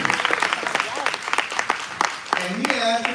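An audience at a live community event in Oakland claps in a brief burst of applause, with a voice rising over the clapping toward the end.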